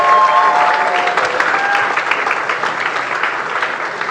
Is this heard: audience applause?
yes